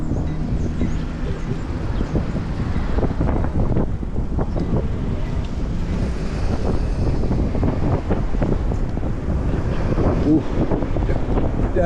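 Cold, gusty wind buffets the microphone during an e-bike ride through Prospect Park in Haledon and Hawthorne, New Jersey, a loud continuous rumble that never lets up, with no talking.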